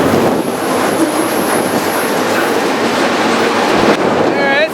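A BNSF freight train rumbles past close by with a steady, loud roar and faint rail clatter throughout, while a person speaks briefly near the end.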